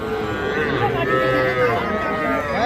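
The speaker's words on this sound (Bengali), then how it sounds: "এইটা দেখা দেখি চলতেছে, একটা বকনা বাছুর" Loud, drawn-out lowing of cattle close by, including a Sahiwal heifer calf, with overlapping moos rising and falling among a busy crowd of animals at a cattle market.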